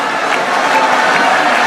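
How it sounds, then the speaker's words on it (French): Crowd at a political congress applauding the Grand Kasaï delegates, a steady wash of clapping and crowd noise that stays level and close for the whole stretch. "est-ce qu'on peut bien applaudir pour le Grand Kasaï?"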